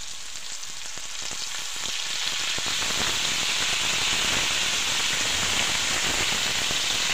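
Ilocano-style mung bean stew with bagoong bubbles and sizzles steadily in a pot, a dense hiss with crackling that grows slightly louder and continues unbroken with no talking.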